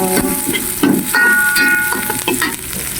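Garlic stir-fried in a pan for home-style vegetables: a steady close sizzle with scraping and clattering stirring strokes running throughout, no talking.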